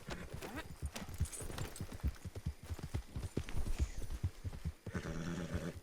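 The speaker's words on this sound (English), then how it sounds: "Why is my horse not going?" A horse's hooves clip-clop steadily in Red Dead Redemption 2 online as the rider moves along, the rhythmic footfalls fairly faint over a low background hum, with no talk.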